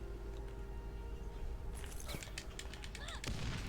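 Grenades go off in the video game Borderlands as a rapid series of sharp, gunfire-like bursts over a constant background hum, with a deeper thump near the end.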